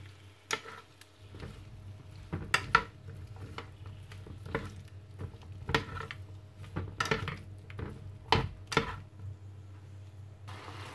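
Tomatoes with fish sauce stirred in a pan, a quiet run of irregular metal spoon scrapes and clinks against the pan over a low steady hum, close and without talk.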